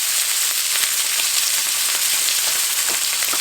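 Steak sears in a hot cast iron pan with a loud, dense, continuous sizzle. The crackling spatters stay steady throughout, close and with no voices over them.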